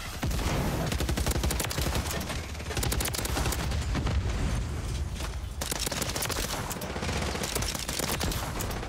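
Akimbo weapons firing in Call of Duty MW3, a relentless rapid stream of loud, close gunshots that rattles on almost without pause, dipping only briefly before resuming.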